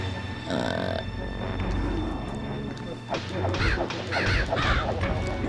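Crows cawing in the video game MediEvil, several harsh caws in quick succession that grow louder toward the end, set against a low game ambience with a thud or crash.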